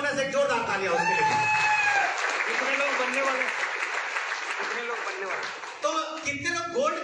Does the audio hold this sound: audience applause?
yes